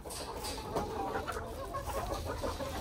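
Hens in a backyard garden cluck steadily and overlapping at close range as they are fed wheat, a busy continuous flock chatter with no talking.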